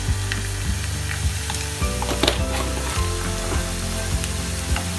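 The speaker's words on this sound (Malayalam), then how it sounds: "അതും കൂടെ ഒന്ന് മൂപ്പിക്കാം." Turmeric, salt and spices frying in a pan with a steady close sizzle, broken by recurring clicking and scraping as the mixture is stirred.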